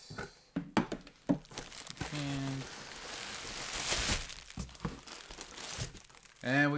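Paper and bubble wrap crinkling and rustling as a box from a Funko shop is unpacked, close and intermittent handling noises with a few sharper crackles.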